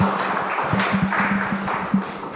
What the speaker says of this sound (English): round of applause as we welcome Pastor Margaret